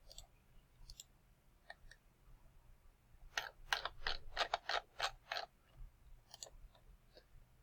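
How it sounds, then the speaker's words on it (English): Computer mouse clicks on a web page button: faint, crisp ticks, a few scattered and then a quick burst of about eight in a row, over a low background hum. "So we're going to click that."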